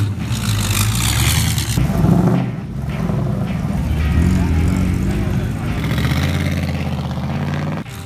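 A race car engine roars loudly and steadily on track, the note rising and falling as it revs, with a brief dip near the middle before it climbs again.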